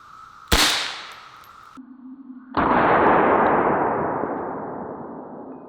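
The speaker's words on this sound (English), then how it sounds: "we're gonna start with the 22 long rifle out of the Ruger 10/22" .22 Long Rifle round fired from a Ruger 10/22 rifle, a single sharp crack followed by a tonal ring, then a second loud burst that decays slowly; no talking.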